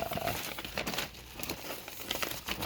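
A sheet of paper handled while unboxing a package, crinkling and rustling up close in irregular bursts with a few small crisp crackles.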